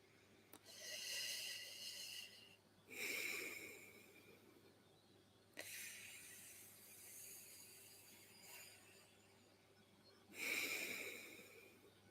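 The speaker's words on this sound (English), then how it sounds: "It is done by inhaling through the teeth, exhaling through nose." Sitkari pranayama breathing, drawing air in through the teeth and breathing out through the nose, comes as slow, faint, hissing breaths repeated about four times with quiet gaps between them.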